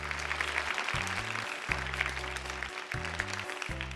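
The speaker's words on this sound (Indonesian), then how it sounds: "Boleh tepuk tangan untuk mereka" Studio audience applauding for the contestants of a televised Indonesian talent show, a steady wash of clapping throughout, underneath stepped low tonal music cues that rise and fall in blocks.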